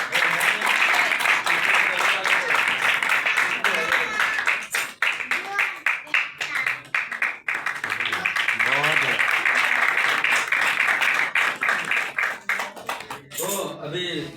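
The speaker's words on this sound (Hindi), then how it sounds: "आपकी जोरदार तालियों में" An audience claps loudly and steadily for several seconds, the applause briefly thinning and surging again before fading near the end.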